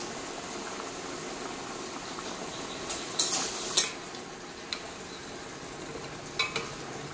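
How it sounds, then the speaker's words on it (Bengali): Pumpkin-leaf greens frying with turmeric and salt in a pan give a quiet, steady bubbling sizzle, broken by a few brief stirring scrapes near the middle and end. "শাকটা ভেজে নেব। হলুদ গুঁড়ো দিয়ে দিলাম, লবণ,"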